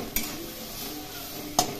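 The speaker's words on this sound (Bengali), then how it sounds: "এখন খুব ভালো করে কষিয়ে নিতে হবে" Kankrol (spiny gourd) curry being stir-fried in a pan, with a soft, steady sizzle broken by two sharp spatula scrapes against the pan, one near the start and one near the end.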